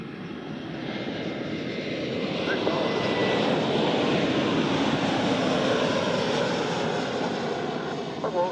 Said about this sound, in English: with the A330 coming in from Newark